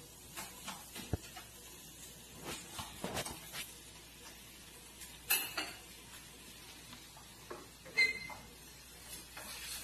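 Onion cooking with bacon in a pan for farofa, heard as a faint sizzle under sharp, scattered clinks and scrapes of a utensil stirring against the pan.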